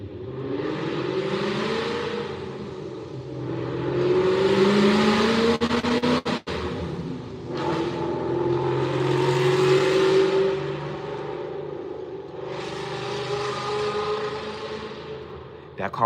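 A car engine revs in long rising and falling surges, loud and near, with a tonal whine climbing through each pass and voices talking over it.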